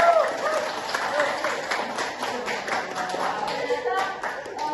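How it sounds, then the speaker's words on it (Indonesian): A university microteaching class claps hands together, a dense scattered patter of small-room clapping filling the whole stretch at steady volume, with voices mixed in underneath. "Oke, luar biasa. Tepuk tangan."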